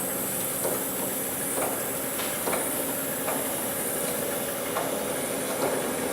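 A standard drive air cart's hydraulic drive turns the metering wheels during calibration: a steady hiss and hum with regular light clicks about once a second, close and even throughout.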